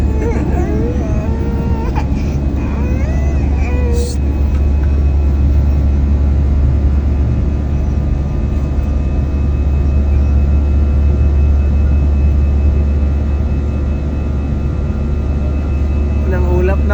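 Steady, loud jet engine drone fills an airliner cabin in flight over the sea, a constant low roar throughout with faint voices and small cabin sounds beneath it.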